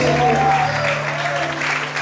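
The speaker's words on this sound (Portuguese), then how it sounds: "Quem crê, bate palma e adore Ele nessa noite" Congregation at an evening church service claps in worship, a continuous broadband wash of applause, with a steady low hum and a sustained voice or instrument tone lying under the clapping.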